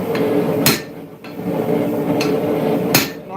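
Hard, ringing hammer blows drive a drift over the face of an anvil while forging a railroad spike axe: three or four sharp metallic strikes spaced roughly a second apart, loud and close.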